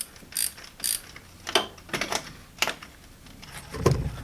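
A worn engine pulley on a BMW E34 being spun by hand, giving a series of short dry clicking, ratcheting bursts with small pauses between them, close and fairly loud, ending in a lower rumbling rattle.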